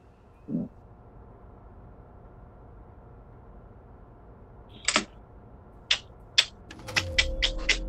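Computer keyboard keys clicking while playing We Happy Few come in a few sharp, isolated clicks that cluster into a quicker run near the end, against an otherwise quiet hum.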